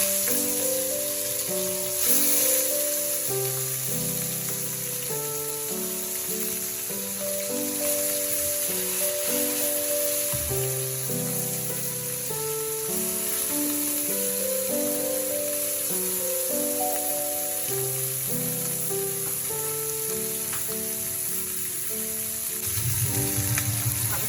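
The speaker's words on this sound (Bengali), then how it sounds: "এবার এই মোরলা মাছগুলোকে ভেজে নেব" Morola fish frying in a pan of hot oil, a steady close sizzle that holds at an even loudness throughout, with music playing over it.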